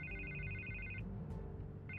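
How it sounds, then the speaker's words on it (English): Telephone ringing in a Batman animated episode, with steady electronic ringtone bursts for the first second and again near the end, loud and close with no talk over it. "I can't get the phone to stop ringing."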